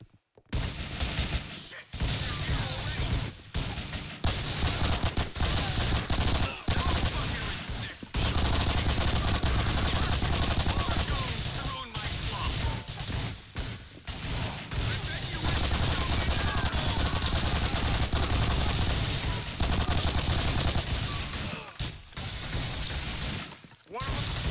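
Gunfire from a newly chosen weapon in GTA IV: The Ballad of Gay Tony rattles in long, loud, close bursts, with rapid shots and shattering impacts broken by short pauses over about twenty-five seconds.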